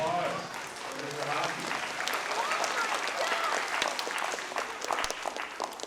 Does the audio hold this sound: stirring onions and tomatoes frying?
no